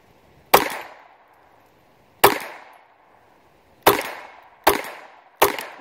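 Five sharp shots from a Taurus TX rimfire pistol fired at steel targets 25 yards away, each a crisp crack with a short ringing decay, spaced irregularly without any talking.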